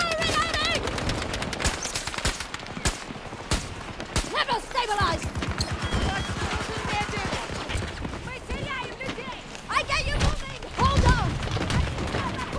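Rapid automatic gunfire and scattered single shots crackle through a Battlefield 2042 multiplayer battle, loud and continuous with mechanical clatter and occasional booms, while someone talks over much of it.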